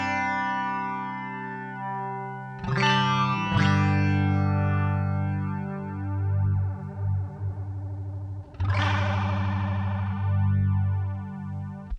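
An electric guitar plays through a PastFx Deluxe Elastic Mattress modulation pedal with the rate at maximum, giving a rapid fluttering shimmer. Ringing chords are struck twice early and once later, each left to sustain, loud with no talking.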